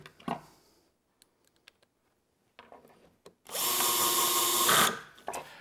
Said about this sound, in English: I'm going to work from the top down driving screws and then shifting the clamps down